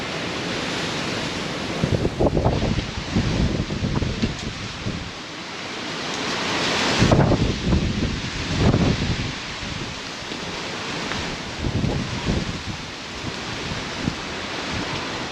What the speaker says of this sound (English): it's a windy morning